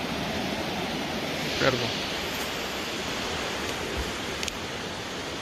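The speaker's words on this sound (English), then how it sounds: "This river is flowing great." River rushing along a wild, scenic stretch in the Pacific Northwest, a steady broadband wash of flowing water close by, with one brief spoken word over it.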